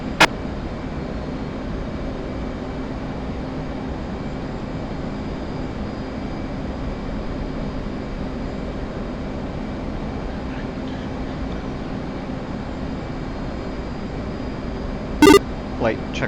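Two F-15 Eagle jets departing in the DCS World flight simulator, a steady, even engine roar droning on without change, with a brief sharp click near the end.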